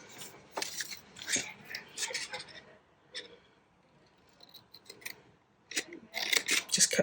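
Scissors snipping paper to make small tags, close and fairly quiet: bursts of crisp cuts and rustling in a loose rhythm, a pause in the middle, then a busier run of snips at the end.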